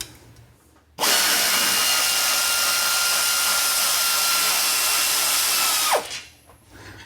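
A power tool whirs loudly and steadily for about five seconds, breaking bolts off the oil pan plate of a V8 BMW E92 M3, then winds down abruptly, close by.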